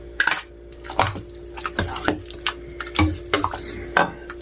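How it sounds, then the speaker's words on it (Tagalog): Pre-boiled chicken being stirred into lugaw rice porridge in a pot, with irregular wet scraping and clinks of a spoon against the pot, close and fairly loud, no talking. "Yan, ihalo na natin tong chicken."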